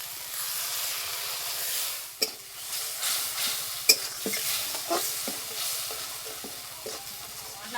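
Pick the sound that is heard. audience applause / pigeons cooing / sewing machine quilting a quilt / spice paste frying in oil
spice paste frying in oil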